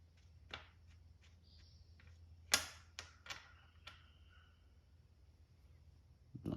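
Fork cap being unscrewed and removed from a Honda CRF250F front fork, giving a few sharp metallic clicks and taps, one louder snap, then quieter ticks close by with no talk.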